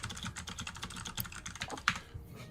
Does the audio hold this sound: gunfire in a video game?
no